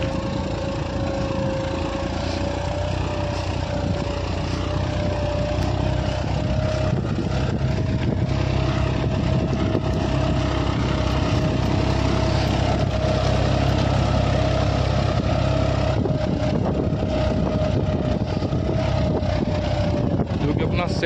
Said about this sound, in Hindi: और लोड भी काफ़ी मांग रहा है ट्रैक्टर अपना, बिल्कुल गरड़ पाड़ दी है इसने